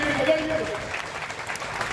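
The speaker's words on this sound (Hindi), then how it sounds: "जरा जोरदार ताली उस लड़ाई के लिए बजाइए" Crowd applause at a Youth Congress protest rally in Godda, India: steady clapping from many hands that carries on under a man's amplified speech throughout.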